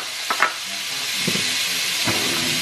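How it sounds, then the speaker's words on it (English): Onions and garlic sautéing in a hot pan, a steady loud hiss and sizzle close by with a few brief clatters at the start, no talk. "dump in my onions and garlic. And then saute this until the onions"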